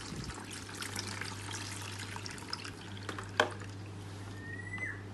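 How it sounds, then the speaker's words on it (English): Water trickles and splashes while rinsing a patient's hair during a bed shampoo over a basin, a soft, continuous pouring with small splashes over a low steady hum, no talking. "And then rinse the patient's head."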